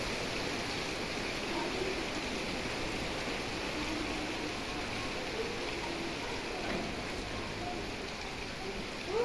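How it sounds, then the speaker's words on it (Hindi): Heavy rain pours down in a steady, dense hiss that stays constant and fairly loud throughout, with no talking over it. "कितना जोर जोर से बारिश आ गई है।"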